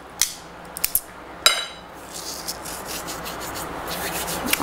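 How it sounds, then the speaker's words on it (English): Coarse salt is rubbed and scattered over a raw steak: a few crisp ticks and pats at first, then a soft, continuous gritty rubbing at close range. "We want to salt every single area of the steak."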